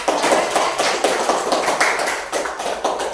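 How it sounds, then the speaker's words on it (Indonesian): A ninth-grade classroom claps for a classmate after a presentation on social change, a small group's quick, uneven clapping with distinct individual hand slaps close by. "Tepuk tangan untuk temannya"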